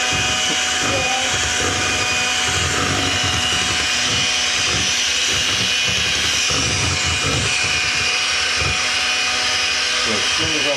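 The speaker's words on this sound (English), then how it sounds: "That is very loud as well. It's a blender." A loud blender runs continuously, mixing honey wheat bread batter at home, with a steady whirring roar throughout and a person's voice talking over it.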